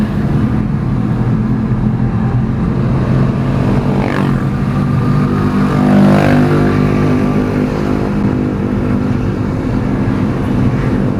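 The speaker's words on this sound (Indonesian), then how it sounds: "Nah ini kan lebih anteng ya, mesin nggak terlalu gerung, nggak terlalu berat juga." Daihatsu Gran Max pickup engine drones steadily in fourth gear from inside the cab, a loud, even low rumble with road noise and no talk.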